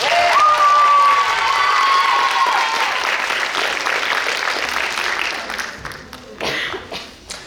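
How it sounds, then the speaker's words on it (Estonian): Applause and cheering from a school dance festival audience, with a loud whistle or shout early on, then clapping that thins into scattered claps and faint chatter. "aga sellegipoolest üks aplaus veel!"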